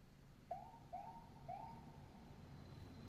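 Three short rising-and-falling wails sound in quick succession at moderate distance, over a low rumbling background, then the tone fades into steady noise.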